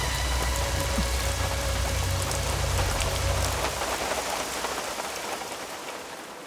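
Heavy rain pours steadily, a dense even hiss of drops striking surfaces, with a low rumble underneath early on that fades as the downpour continues alone.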